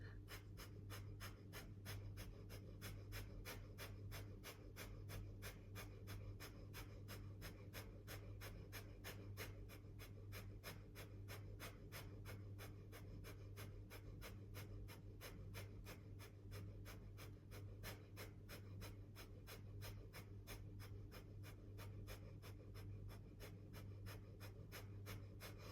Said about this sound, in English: do a powerful breath of fire